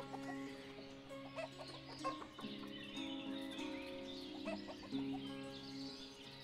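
Chickens in the farming village game Ostriv, a soft repeated clucking from several birds over a faint ambient drone, quiet and close, with no talking.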